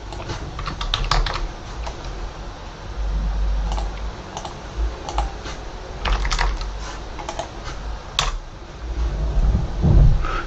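Password being typed on a computer keyboard during a code repository setup: irregular clusters of light key clicks over a steady low fan hum, fairly close, with no talking.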